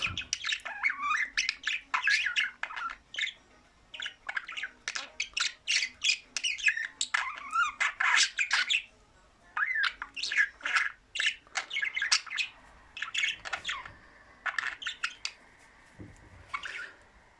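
Caged diamond doves and other small birds chirp and squawk continuously, a dense busy chatter of high calls close by, with no talking.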